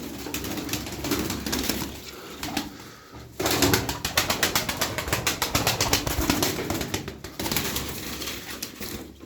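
Pigeons coo inside a loft, a steady close chorus of calls with a rapid stretch of wingbeats and shuffling partway through.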